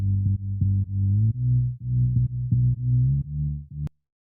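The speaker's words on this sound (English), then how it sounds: "Now let's go to the sub bass, which is this one. Let's listen to it." A clean, full synth sub bass from the Ace VST plugs out a short melodic line of low sustained notes, each cut with a soft gap and stepping between a few pitches, then stopping abruptly into silence.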